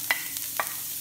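Carrot pieces fry in a pan with a drizzle of olive oil, a soft steady sizzle broken by a few sharp stirring scrapes, close by, with no talking.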